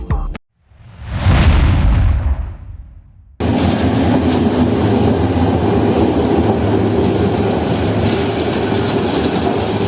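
A train rushes past at night with a loud swelling roar, then a steady rumble and rattle of wheels on track continues without letup, heard from aboard.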